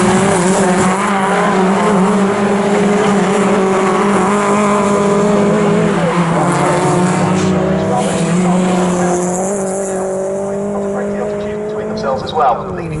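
MG race cars in an MGCC MG Trophy race at Snetterton, several engines snarling loudly with rising and falling revs as they pass close by, under continuous commentary.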